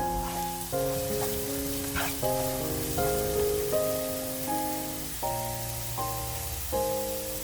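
A prepared spice mixture frying in hot oil in a wok for a dried fish curry, a steady close sizzle under sustained musical tones throughout, with no talk.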